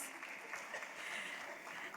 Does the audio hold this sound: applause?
yes